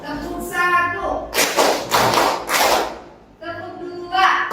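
A teacher leads a group of adults in a rhythmic clapping pattern, bursts of several claps at mid-distance, with spoken voices before and after the clapping.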